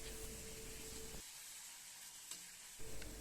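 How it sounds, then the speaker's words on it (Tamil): Tomatoes sautéing in a pan for goat boti gravy give a steady close sizzle and fry hiss that cuts out briefly mid-way, then resumes with a stirring scrape. "தக்காளி நல்லா மேஷ் ஆகிற வரைக்கும் நல்லா வதக்கிக்கலாம்."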